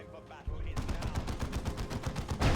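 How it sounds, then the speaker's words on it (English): A Devastator fires in a Dawn of War 2: Retribution 1v1 match: dense bursts of rapid gunfire start after a quiet opening and continue steadily, with faint game noise underneath. "Devastator's shooting at what it can see"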